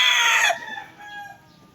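A fighting rooster crows loudly and close by, the call ending abruptly and trailing into softer clucks and faint bird sounds.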